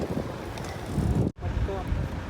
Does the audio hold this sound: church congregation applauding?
no